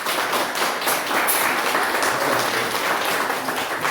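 A church congregation applauds at a Sunday worship service, a dense, steady wash of many hands clapping at even loudness throughout, with no voices standing out.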